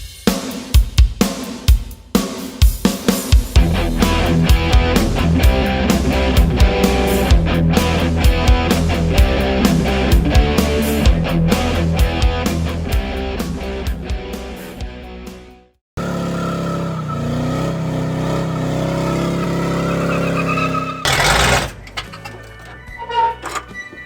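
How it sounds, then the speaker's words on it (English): A 1985 Oldsmobile Cutlass engine cranks with a few rough catches, then fires and runs at a loud, steady idle for several seconds before cutting off, followed by another stretch of running engine noise up close. "It fired up and ran, as you saw."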